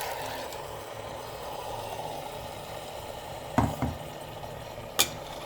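Tomato puree goes into a pan of Irani-style chicken curry on a low flame, giving a soft steady sizzle with a few sharp clinks of the stirring spoon against the pan.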